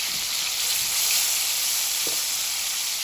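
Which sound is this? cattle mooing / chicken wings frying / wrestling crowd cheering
chicken wings frying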